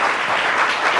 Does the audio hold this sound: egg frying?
no